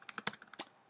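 Quick taps on a computer keyboard: about eight to ten crisp, close keystrokes in a brief irregular burst, quiet and alone.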